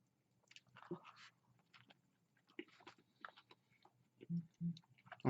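Quiet close-up chewing of a Taco Bell steak Quesalupa, soft wet mastication with a few sharper bites and crunches spread across several seconds.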